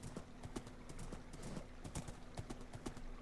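Horse hooves clip-clopping on the ground in a video game, a quick steady rhythm of sharp close strikes at a moderate level, running throughout without talk.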